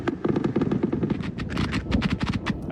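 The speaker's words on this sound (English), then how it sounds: "reports of approaching tanks and gunfire from the air" Rapid bursts of automatic gunfire from aircraft over Gaza rattle in quick, dense volleys for a few seconds, loud and sharp with a ragged, repeating rhythm.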